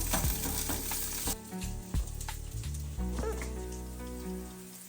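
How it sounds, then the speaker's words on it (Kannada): Pepper, green chillies and coriander roasting in a pan with cumin: a continuous close sizzle and crackle with scattered pops and stirring scrapes, loud throughout. "ಸ್ವಲ್ಪ ಮೆಣಸು, 6-7 ಹಸಿಮೆಣಸಿನ್ಕಾಯಿ, ಧನಿಯಾ ಇಷ್ಟು ಸೇರಿಸಿ ಹುರಿತೀನಿ ಸ್ವಲ್ಪ ಕೆಂಪಾಗೋ ತನಕ."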